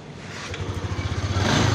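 A motorcycle engine with a newly fitted spark plug cap cranks by push button and catches, settling into a loud, steady rhythmic running note that builds slightly toward the end.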